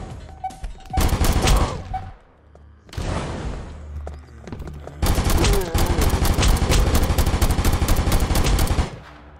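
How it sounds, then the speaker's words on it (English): Assault rifle gunfire in the BulletSorrow VR shooter, loud rapid automatic bursts in three separate strings, the last one long and sustained, with brief pauses between them. "This assault rifle sounds a bit like the pulse rifle from Aliens"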